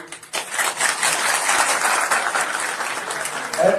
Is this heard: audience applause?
yes